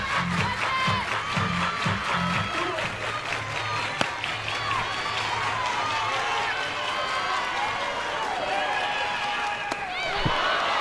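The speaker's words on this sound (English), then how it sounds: "Everybody clap your hands." Softball stadium crowd clapping in a steady rhythmic beat at the start, then a broad crowd roar carries on under the noise of the ballpark.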